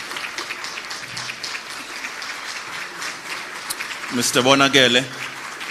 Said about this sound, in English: a round of applause and a standing ovation is most due